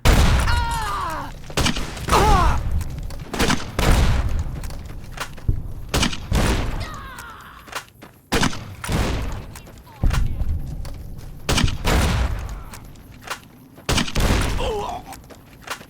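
Gunfire rings out in Fallout: New Vegas, with loud, sharp shots in irregular bursts and single reports spread across the stretch, and a voice talking between and over some of them.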